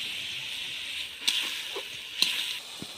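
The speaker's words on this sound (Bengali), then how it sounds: "মশলাটাকে ভালো করে কষিয়ে নেব।" Masala of chopped tomato, ground cumin, chilli and turmeric with a little water fries in a pan, a constant soft sizzle with a few light clicks and taps of stirring, close up.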